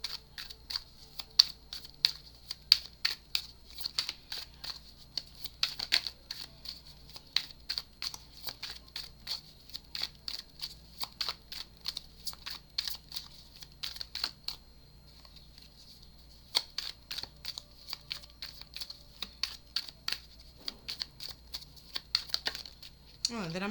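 Repeated soft crinkling and rapid papery riffles in bursts, close by, with brief pauses between rounds of shuffling oracle cards.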